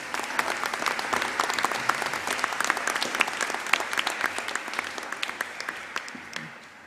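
An audience claps steadily for award-winning girls at a girls' high school awards ceremony, with dense, sustained applause that fades slightly toward the end.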